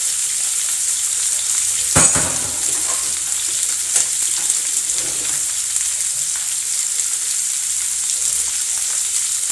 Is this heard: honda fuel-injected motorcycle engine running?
no